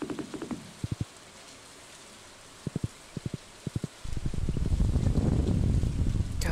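Rain falls in the Stardew Valley video game, a steady, fairly loud hiss that comes in suddenly after a few seconds of quiet broken by short clicking taps.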